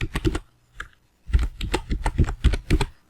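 Close, crisp keystrokes on a computer keyboard: a quick burst of taps, a brief pause, then a rapid steady run of typing.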